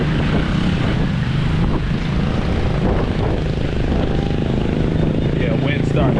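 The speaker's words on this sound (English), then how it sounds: "wind's starting to kick up a bit" Wind buffets the microphone on a city street at night in Cebu City, Philippines, a loud constant low rumble with a person talking over it.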